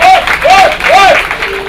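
An audience applauds two guest singers at an album presentation. It is a steady, dense wash of clapping heard under a woman's close, amplified speaking voice.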